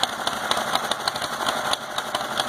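The two-cylinder engine of a 1941 John Deere H tractor runs loud and close, a steady chugging beat with metallic rattle while the carburetor is being adjusted, and no voices.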